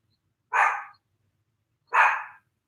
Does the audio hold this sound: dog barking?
yes